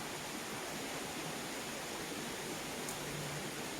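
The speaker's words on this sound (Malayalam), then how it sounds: "നല്ല ശബ്ദം ഉണ്ട് അല്ലേ വെള്ളം ചാടുന്നത്" Steady, dense rush of water tumbling down a waterfall, close and loud, a continuous broadband roar with no pauses.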